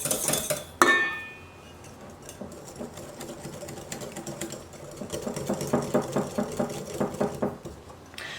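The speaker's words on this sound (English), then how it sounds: "So now what you want to do is you want to whisk it together" A metal whisk beats a no-egg vanilla and chocolate ice cream base in a bowl, opening with a sharp clink, then soft scraping before quick rhythmic strokes grow louder and faster toward the end.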